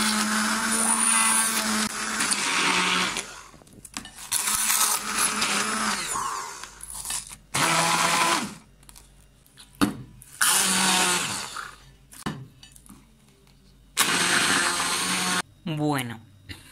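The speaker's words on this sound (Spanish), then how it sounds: "Ahora lo que vamos a hacer es coger la batidora y os voy a enseñar cómo va a ir quedando la textura" A hand blender whips protein leche merengada ice cream mixture in loud, repeated bursts of whirring, stopping and starting several times with short pauses between runs.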